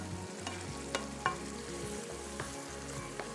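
Finely chopped tomatoes sizzle in a pan for potato and pea biryani, a soft, steady frying hiss with a few light clicks, quiet and close, with no talking.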